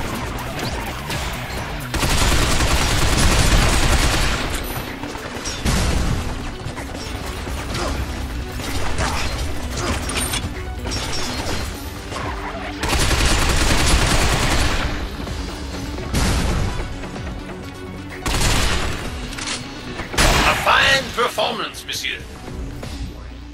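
Gunfire in the video game Binary Domain: dense bursts of shots and machine-gun fusillades with mechanical clatter, loud and sustained across the whole clip, swelling in heavy waves, with voices heard in the mix.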